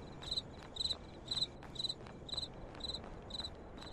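Night crickets in a misty graveyard from a video game, giving regular bursts of high chirps, roughly eight evenly spaced trills, close and distinct over faint ambient hiss, with no voices present.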